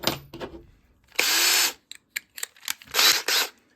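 A bit is swapped on a power drill while a bluegill taxidermy mount is being fitted with a hanger: two short, loud bursts of the motor spinning, with scattered clicks and ratchety chuck sounds between them, close by.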